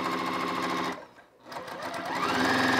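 A new sewing machine stitches binding at stitch length 5, giving a loud, steady rapid motor hum that briefly stops partway through and then resumes at full speed.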